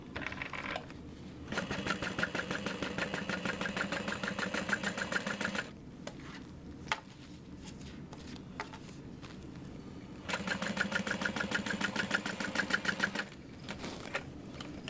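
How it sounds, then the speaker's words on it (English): A sewing machine stitches around the outside edge of a bag at 1/8 inch, running in steady rapid bursts that pause and restart, close and fairly loud with no talking. "And then we're going to stitch around the outside edge at 1/8 inch"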